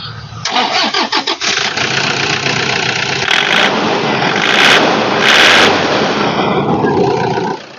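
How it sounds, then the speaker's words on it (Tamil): A car engine runs close by, starting with a few uneven bursts and then settling into a steady, loud idle rumble. "இப்போ வண்டி இன்ஜினோட நாய்ஸை லைவாக கேட்கலாம்"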